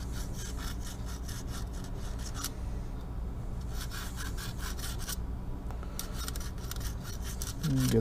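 Close, rhythmic scrubbing rasps repeat in bursts as corrosion is rubbed off the contacts of an RV comfort control switch, with brief pauses between strokes.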